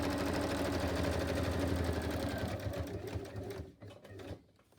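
A sewing machine back-stitches a paper envelope pocket, its needle chattering in a fast, steady rhythm close by before slowing and stopping near the end.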